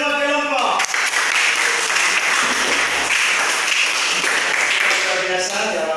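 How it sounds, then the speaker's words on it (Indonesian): A classroom of students claps for all the groups, dense continuous applause that fills the room, with a voice and some tonal sounds at the start and end. "Nah, tepuk tangan untuk semua kelompok."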